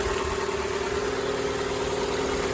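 A 2012 Ford Escape engine idles without its radiator, a steady, even mid-pitched hum with a constant low drone and slight vibration, close and unbroken.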